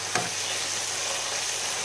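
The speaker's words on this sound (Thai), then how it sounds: "เห็ดถอบที่ผมเอามาผัดนี้คือผมเอาไปต้มมาก่อนแล้วนะครับ" Boiled Astraeus (hygroscopic earthstar) mushrooms stir-fry with spaghetti in a pan, giving a steady close sizzle with a brief scrape of the spatula near the start and no talking.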